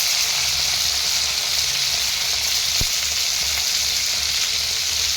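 Cut cauliflower sizzling in hot oil previously used to fry potatoes, a steady bright crackling fry with a single sharp knock partway through, no voices.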